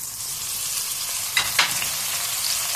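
Tomato pieces sizzle in hot oil in a pan after ginger-garlic paste has been fried, for a Telugu spiced fish curry, making a steady broadband fry hiss with two short stirring scrapes near the middle, close and without any talk.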